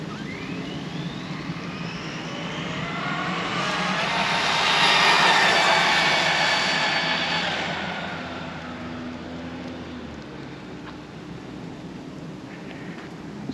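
An Arrma Fury brushless RC truck on a speed run gives a rising and falling high-pitched whine that builds to a peak as it passes near, then fades, with no voices.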